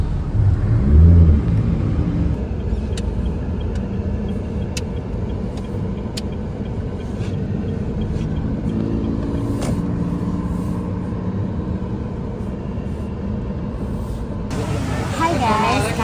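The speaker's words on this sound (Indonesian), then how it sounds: "Bali tuh lagi padet banget, jadi macet di mana-mana" Heavy road traffic on a congested street in Bali, a steady rumble of car and motorbike engines close by, with passing vehicles, occasional higher whirs and faint voices mixed in.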